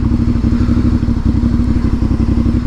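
A Honda VTR 1000 motorcycle engine runs loud and close with a deep, steady throb, while the bike chain clatters and rattles in a rapid rhythm underneath.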